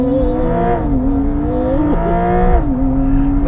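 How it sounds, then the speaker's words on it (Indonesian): A Porsche launching hard with launch control, the engine note held high then climbing in steady revving pitch sweeps, loud and close with no talk over it. "Itu launch control yang dipunyai Porsche, itu salah satu yang paling reliable."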